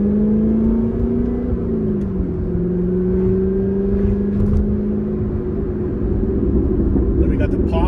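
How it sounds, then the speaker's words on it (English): Corvette ZR1 engine revving with a steady, loud low drone that shifts pitch, with exhaust pops crackling near the end, up close. "Then we got the pops from the exhaust."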